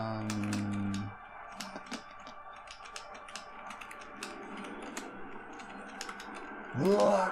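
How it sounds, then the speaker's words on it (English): Rapid, uneven clatter of keys on a computer keyboard during gaming, quick bursts of clicks fairly close, with brief low vocal sounds at the start and end. "I kind of go ham on this keyboard here"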